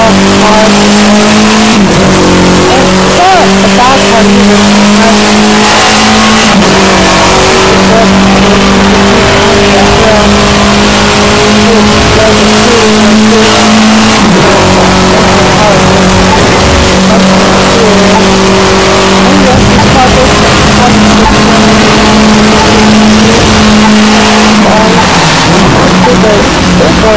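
A small car in the racing video game The Crew 2 revs loud and steady as it accelerates, its engine note stepping down at each of several gear shifts across the run.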